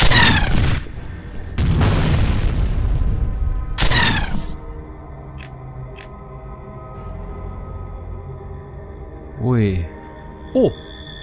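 Several loud bursts of gunfire in the video game F.E.A.R. with booming echoes, followed by quieter electronic sweeps and a couple of short sharp effects.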